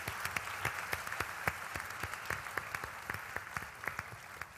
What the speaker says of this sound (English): let's have a very big round of applause for the panelists